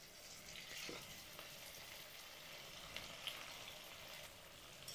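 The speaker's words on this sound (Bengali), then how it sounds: "আমি সরষের তেল দিয়ে ভেজে নিচ্ছি" Semolina snacks fry in hot mustard oil, a faint steady sizzle and bubbling with a few soft scrapes and clinks, no voices.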